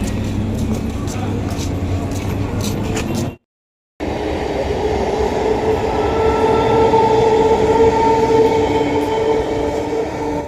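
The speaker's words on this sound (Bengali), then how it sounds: "ওই দেখো আপের ট্রেন যাচ্ছে, আপের ট্রেন।" An up train rolls steadily past, a continuous loud rumble of wheels and carriages close by, briefly cut off by a short gap before the passing noise resumes.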